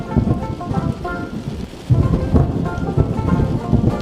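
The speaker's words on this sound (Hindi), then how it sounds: "ऐसे में हल्का बारिश शुरू हुआ" Steady rain patters down with a rumbling, noisy wash; the texture thickens after a brief dip midway, sounding more like a moderate shower than a drizzle.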